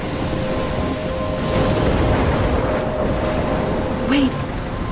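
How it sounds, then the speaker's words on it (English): A storm in the video game Life is Strange, with steady rushing rain and wind, a low rumbling wash of thunder and a brief tonal blip near the end. "I'm trapped in a storm"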